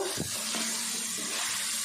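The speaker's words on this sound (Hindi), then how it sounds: "अब शलजम ने पानी छोड़ना शुरू कर दिया, तो अब हम इसमें बाकी का पानी ऐड कर देते हैं।" Water poured into a pan of turnips and peas that have been gently sautéed over low heat, a short splashing burst followed by a steady hiss and bubbling sizzle.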